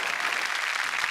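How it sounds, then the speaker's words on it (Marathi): An audience claps in a dense, steady burst of applause, loud and continuous for a moment. "जोरदार टाळ्याने आपण त्यांचं स्वागत करूया"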